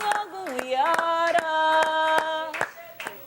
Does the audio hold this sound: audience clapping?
yes